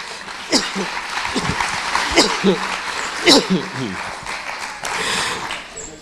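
A church congregation claps during a Spanish-language service, with scattered bursts of applause rising under a voice and swelling into steadier clapping near the end.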